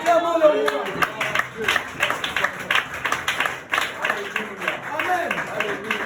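Church congregation at a consecration service applauding to acclaim the king, steady rhythmic clapping from a crowd, mixed with voices speaking and calling out throughout.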